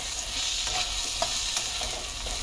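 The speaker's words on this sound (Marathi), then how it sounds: "आता हे सगळे जिन्नस परत मंद आचेवरती व्यवस्थित आपल्याला भाजून घ्यायचे." Spices, grated coconut and curry leaves roast in a pan over a low flame, giving a steady, even sizzle with faint stirring scrapes throughout, no voices.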